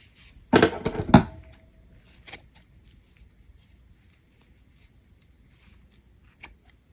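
Scissors snip through crochet yarn in two quick close cuts near the start, followed by a faint click and another brief snip later, otherwise quiet, while finishing crochet carrots.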